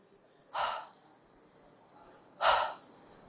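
A voiced demonstration of the glottal fricative /h/ in English phonetics: two short, breathy exhalations about two seconds apart, each a soft burst of airy breath, close and isolated against a quiet background.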